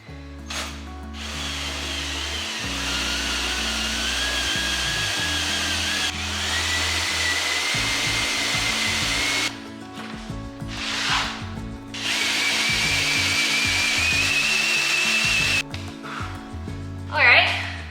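A power drill whirs loudly in several long bursts with brief pauses between, its motor pitch rising as it bites, and a person talks intermittently throughout.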